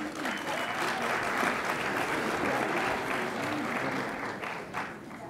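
An audience at a 2018 annual employee awards ceremony claps for retirees, a continuous, fairly soft wash of many hands that stays even and fades slightly toward the end.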